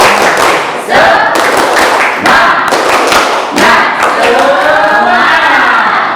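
A school class performs a rhythmic cheer clap, loud bursts of unison clapping and thumps alternating with group shouts and chanting voices close by.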